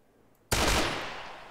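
A single sharp, loud gunshot from the video game San Andreas Walking Dead bursts in after a moment of near silence, followed by a long rumbling decay that fades slowly.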